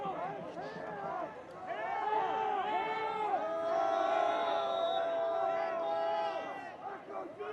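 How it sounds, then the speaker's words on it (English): Lively crowd at a boys lacrosse game at Lake Orion, a sustained roar of cheering and shouting voices that swells in the middle, with an announcer talking over it. "Crowd still lively here at Lake Orion."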